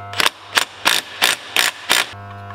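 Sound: impact wrench (rattle gun) tightening bolts

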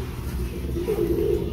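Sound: pet bird cooing, pigeon-like

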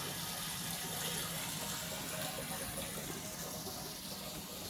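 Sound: water filling a tank

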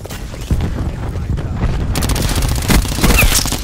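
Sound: cluster grenade explosions in video game Call of Duty Black Ops 4

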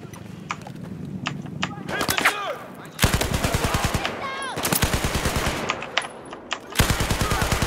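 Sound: gunfire from a new gun in video game Battlefield

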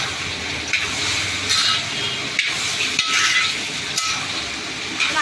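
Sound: stirring salted ivy gourd stir-fry in a pan

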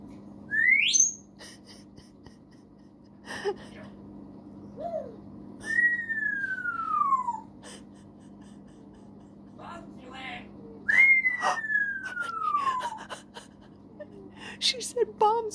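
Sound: African grey parrot whistling and vocalizing

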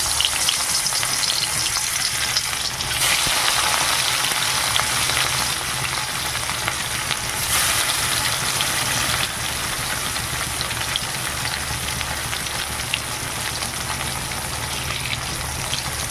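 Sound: rohu fish pieces frying in hot oil in a wok

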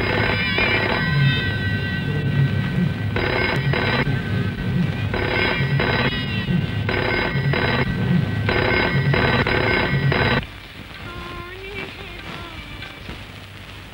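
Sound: telephone ringing after dialing a number

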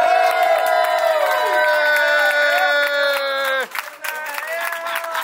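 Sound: people cheering as a doctor enters

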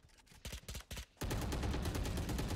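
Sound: gunfire from the video game Valorant

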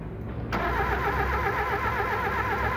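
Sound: car engine cranking but failing to start

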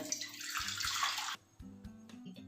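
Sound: water being drained from soaked lentils

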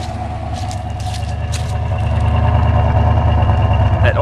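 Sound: Oldsmobile 350 engine idling in 1980 Cutlass Supreme

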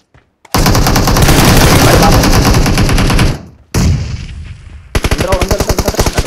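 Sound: gunfire in a video game

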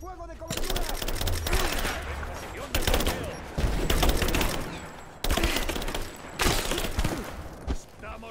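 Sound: gunfire in Rise of the Tomb Raider video game

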